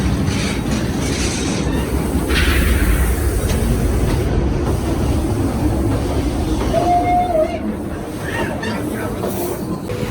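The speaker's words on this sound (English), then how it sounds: "Slow that train down." A theme park train at Knott's Berry Farm rumbles along with a continuous rolling clatter and a brief squeal partway through, faint voices in the background.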